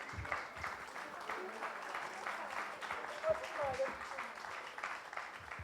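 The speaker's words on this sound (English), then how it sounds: "she doesn't need to hear any more applause" An audience at a book launch claps in a steady, moderately distant round of applause, with voices murmuring beneath it.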